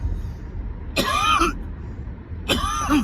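Two short, rough coughs about a second and a half apart over a low steady rumble of a moving car on a rideshare drive.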